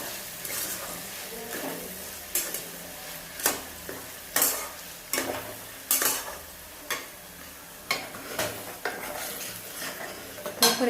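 Onion-tomato masala roasts in a pan while a spoon stirs it in regular strokes, each one a clear scraping knock against the metal over a soft background sizzle.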